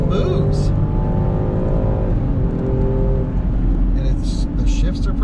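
A Land Rover Defender 110 P400 engine pulls hard at around 5,000 RPM while accelerating on a canyon road, a loud sustained drone with rising tone heard from inside the cabin, with brief faint noises over it.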